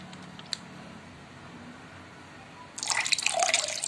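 Homemade fermentation liquid of Yakult, rice-water and brown-sugar solution poured out, starting as a few faint drips and then turning into a louder, steady splashing stream over the last second.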